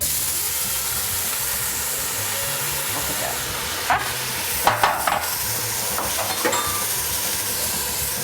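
Chopped vegetables hit a hot seafood gumbo roux in a pot, giving a steady sizzling hiss with a few sharper bursts of spatter and stirring scrapes partway through, close and continuous with no talk.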